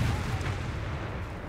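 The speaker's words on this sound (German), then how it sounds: "Richtig dicke Kanone" A large cannon firing in the Company of Heroes 3 World War II strategy game's Italy campaign: a low, rumbling artillery boom rolling on at moderate loudness with no speech.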